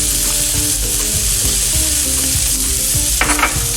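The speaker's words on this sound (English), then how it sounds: "Now that I've pulled out the fish, I'm gonna throw in the shallots." Shallots hit a hot pan after fish has been cooked in it, bursting into loud, dense sizzling and frying with faint stirring clinks, close and continuous with no talking.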